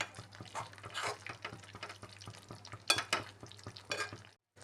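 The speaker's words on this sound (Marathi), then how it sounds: "आपले हे आलू छानपैकी मी मसाल्यामध्ये मिक्स करून घेत आहे ग्रेव्हीमध्ये" Boiled potatoes are stirred into masala gravy for dum aloo, with soft rhythmic scraping and stirring strokes against the pan and a light background hum, a brief silence at the very end.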